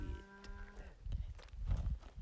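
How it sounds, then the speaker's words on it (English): Cattle low nearby in a loose herd, one drawn-out moo followed by deeper rumbling calls and outdoor background noise. "Can you hear the cows moving?"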